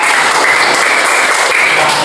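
Classroom applause for a student who scored a perfect mark, a steady, dense wash of many hands clapping together at close range, continuous and loud from start to finish with no talking over it.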